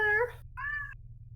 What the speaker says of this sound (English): I heard Link meow in the background.